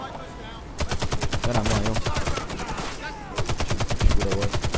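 Rapid automatic gunfire from a weapon in the video game Warface, loud sustained bursts of evenly spaced shots with a short gap in between, while someone speaks briefly over it.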